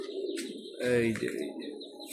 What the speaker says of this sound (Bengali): কবুতরগুলো অনেক দূরে দূরে যাই উঠছে।